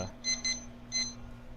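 A timer for steeping hojicha tea gives a short double electronic beep followed after a pause by a single beep, clear and close over a faint steady hum.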